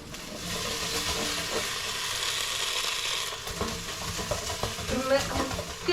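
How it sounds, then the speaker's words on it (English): Sausages sizzle in an air fryer with a continuous crackling hiss, joined by scattered clinks and rattles, as if being stirred or shaken. "sausages, I can hear them sizzling"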